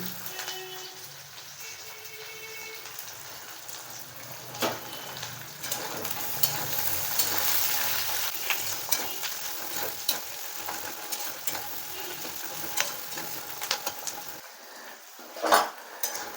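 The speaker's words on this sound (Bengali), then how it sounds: "এবারে আমি কেটে রাখা পেঁয়াজগুলো দিয়ে দিচ্ছি" Chopped onions fry in a pan with a soft continuous sizzle, quiet and close, punctuated by a few light clinks and scrapes of a spoon against the pan.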